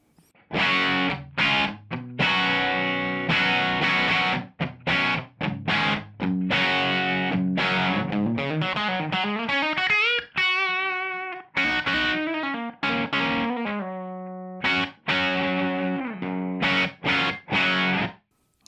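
Electric guitar through a Maxon DS-830 Distortion Master pedal at a lower setting, mixing chord stabs with single-note runs and bends; steady, moderately loud, distorted and without talking.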